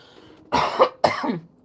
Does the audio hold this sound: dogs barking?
no